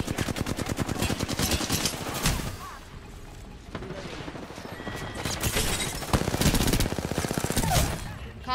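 Rapid bursts of video game gunfire crackle almost continuously, with machine-gun rattles and single shots, some sounding distant, dipping briefly in the middle before building again, with a voice talking faintly underneath.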